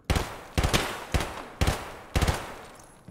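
Gunfire from a new weapon in the video game Escape from Tarkov, five loud full-auto bursts spaced about half a second apart, each a rapid cluster of sharp cracks with a short decaying tail.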